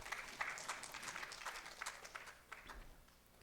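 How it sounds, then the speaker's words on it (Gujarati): An audience at a religious discourse gathering applauds the staff, a faint, scattered patter of clapping that thins out toward the end, heard from a distance. "એકવાર એ સંપૂર્ણ સ્ટાફને પણ આપણે તાળીઓથી વધાવીએ."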